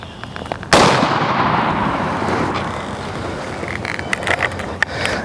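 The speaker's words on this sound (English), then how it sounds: "We're going to put a target up here and shoot the longbeard XRs." A single loud shotgun blast from a Longbeard XR turkey load fired at a paper target outdoors, sharp and close, followed by a long echoing rumble and faint clicks and rustles as it fades.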